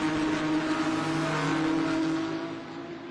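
A GT race car at Lime Rock Park, number 212, on its final lap toward the checkered flag, its engine a loud sustained whine that holds steady then fades slightly as it pulls away.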